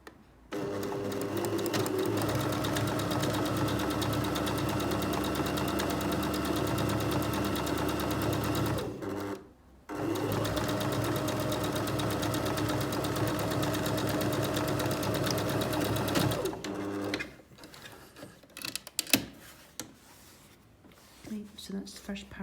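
A close, steady sewing machine runs a seam with a 1 cm allowance in two long, even stretches split by a brief stop, then quiets as a person starts talking.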